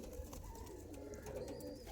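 An Andhra Abluk pigeon cooing softly in a loft, low murmuring coos over faint background noise, brief and quiet.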